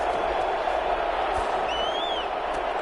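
Steady roar of a stadium crowd in a Madden 21 NFL simulation, Seattle Seahawks at the Los Angeles Rams, a dense unbroken wash of crowd noise throughout with a faint whistle-like tone near the end.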